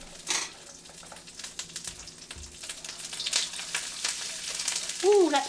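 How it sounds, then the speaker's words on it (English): Dried shrimp frying in hot oil in a pan, a close, crackly sizzle with irregular pops that grows busier toward the end, a brief voiced exclamation near the close. "I'm just going to heat it up real fast, just to kind of fry it a little bit"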